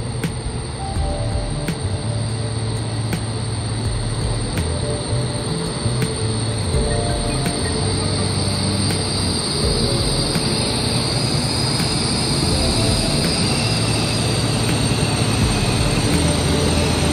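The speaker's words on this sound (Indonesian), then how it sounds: "Nah, itu dia keretanya." A passenger train pulls into a station, a loud continuous rumble of wheels and carriages rolling along the track with a high metallic whine running through, steady and close throughout.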